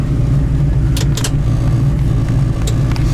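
Engine of a 1971 Chevrolet Nova SS idles close by, a loud, steady low rumble with a few light metallic clinks over it and no talk.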